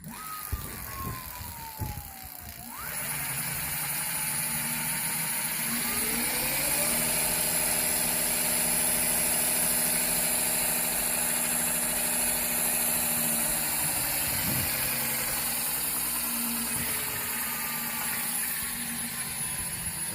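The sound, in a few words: electric bike upgrade motor spinning on throttle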